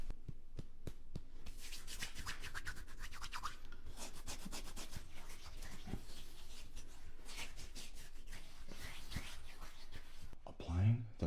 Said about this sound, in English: Applying the lather with a brush is definitely going to help out.